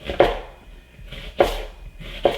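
A knife chops an onion on a board: three crisp, solid strikes about a second apart, close and clear, with quiet pauses between them.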